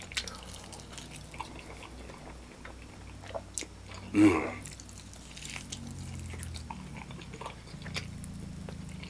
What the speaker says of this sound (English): I'm gonna finish this wing. I apologize in advance. I have to eat it.